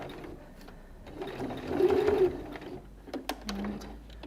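A sewing machine stitches along fabric in short bursts of rapid mechanical whirring, with quieter pauses and small clicks between runs, fairly close and alone.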